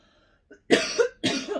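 Two harsh, close coughs in quick succession, each a loud broadband burst, preceded by a faint breathy sound.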